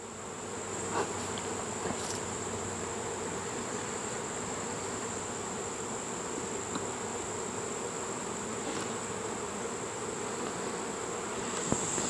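A steady, dense hum of many honeybees buzzing close by at an open hive in late summer, continuous and even throughout with no voices.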